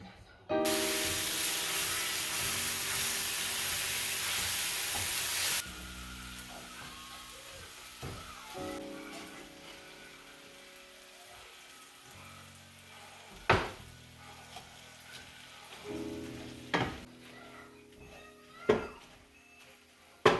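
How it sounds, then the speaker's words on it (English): Ground meat and red peppers fry in a pan for a home-cooked high-protein meal, with a loud steady sizzle at first that settles into a softer crackle broken by a few sharp clinks and scrapes. "Now that my meat is broken up and cooking and I've added the red peppers"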